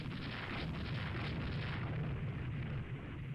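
Naval gunfire rumbles in the Rule the Waves 2 naval warfare game as battleships are targeted, a steady loud low booming wash of cannon fire filling the short stretch.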